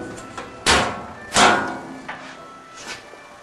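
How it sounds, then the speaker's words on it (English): A cupboard door in a former CN caboose, at the back where the water tank is kept, gives two distinct wooden thumps and a few lighter knocks as it is handled. "if you want to open that door"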